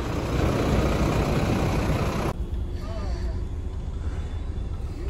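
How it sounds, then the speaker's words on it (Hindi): The rear engine of a Volvo B11R multi-axle sleeper bus idles with a steady, loud low rumble, a broad hiss cutting out partway through while the engine drone continues unbroken. "आप देख सकते हैं यहाँ का रियर इंजन है।"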